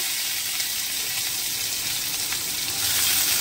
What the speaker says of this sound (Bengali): তো ডালে দিয়েছি গোটা জিরে, শুকনো লঙ্কা ফোড়ন, আর এদিকে দিচ্ছি পেঁয়াজ, কাঁচা লঙ্কা